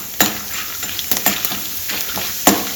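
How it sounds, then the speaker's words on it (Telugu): Urad dal and chana dal dropped into hot oil for tamarind-leaf pulihora, crackling and sizzling steadily up close, with a few sharper pops and stirring scrapes. "తర్వాత కొంచెం మినపప్పు, కొంచెం పచ్చిశనగపప్పు వేస్తున్నానండి."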